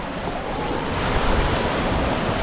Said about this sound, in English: Getting a bit of water on the deck here.